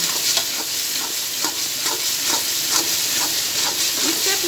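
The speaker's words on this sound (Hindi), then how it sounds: "इसको अब भूनते हैं हम" Spice masala fries in a karahi for fish curry, giving a steady loud sizzle and hiss punctuated by regular scraping stirs of a spoon.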